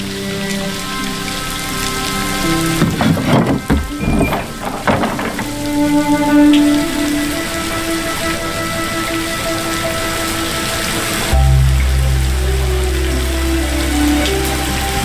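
Rain falling on a dark night, a loud, steady patter on surfaces with a few brief thumps and knocks mixed in and a low hum toward the end.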